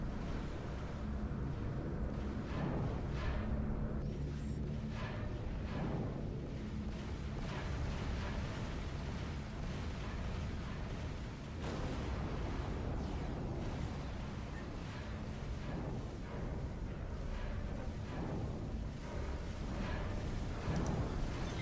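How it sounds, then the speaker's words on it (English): Capital ship battle in the space game X Rebirth, with plasma and pulse turret blaster fire and repeated explosions forming a dense, continuous roar of booms and bursts throughout. "they're met with a hail of blaster fire. Plasma turrets, pulse turrets, all the fun stuff."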